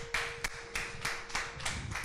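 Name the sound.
applause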